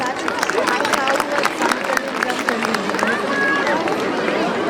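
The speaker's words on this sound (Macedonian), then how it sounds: "Аплауз за оваа маска." A crowd applauds a carnival mask worn by sixth-grade pupils at the Probištip masquerade ball, a dense, steady wash of clapping mixed with cheering and lively crowd voices throughout.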